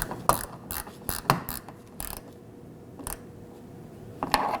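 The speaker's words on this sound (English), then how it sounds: "Now for my T15 Torx screw. Just snug it down." Ratchet driving a T15 Torx screw snug on a 2018-2024 Chevrolet Equinox rear liftgate panel during a park assist camera replacement: a string of sharp, close clicking bursts, irregular and grouped, with quieter gaps between.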